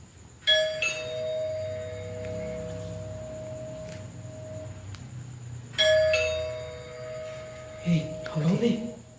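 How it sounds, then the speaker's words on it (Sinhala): Doorbell chiming twice in succession, each a sharp electronic ding-dong tone that rings out and fades, with faint background hum and a brief rustle after the second ring. "එක දිගට බෙල් ගහනවා නේ."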